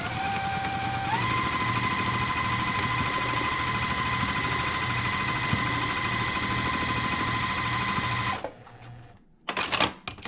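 A sewing machine stitches a quarter-inch seam in a quilt block, running as a steady rapid whirring hum for about eight seconds before stopping, then a few clicks and handling noises.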